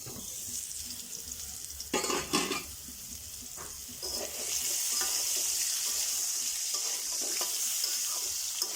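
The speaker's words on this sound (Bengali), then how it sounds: "আলুগুলোকে আমি একটু ঢাকা দিয়ে ভাজবো, এতে করে আলুগুলো তাড়াতাড়ি সেদ্ধ হয়ে যাবে।" Potatoes fry in a covered pan for a hilsa, potato and eggplant curry: a couple of brief clattering knocks from the lid or utensil, then a steady, bright hissing sizzle close by.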